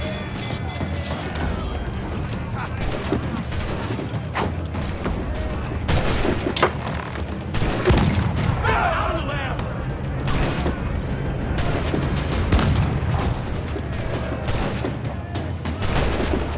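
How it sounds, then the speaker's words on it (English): Ship cannons fire in dense, rolling volleys during a naval battle in Assassin's Creed 4 Black Flag, heavy booms and crashes layered with splintering impacts, shouting crew and stirring music. "Cannon ready!"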